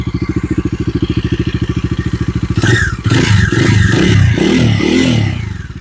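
A 2024 Bajaj Dominar 250 twin-cylinder motorcycle idles with a steady, rapid pulsing beat, then revs hard several times in loud, rising bursts close by.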